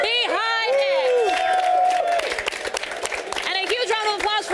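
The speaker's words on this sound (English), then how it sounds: "a huge round of applause for the guys behind it" An audience at gamescom applauds and cheers for the team behind Age of Empires, a dense wash of clapping and whoops heard beneath loud speech from a presenter on a microphone.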